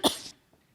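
A single short cough close to the mic, a sharp burst that fades quickly into near silence.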